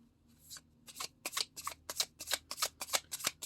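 A tarot deck is shuffled by hand in a quick run of crisp riffling card flicks, close and steady for several seconds, with no talking.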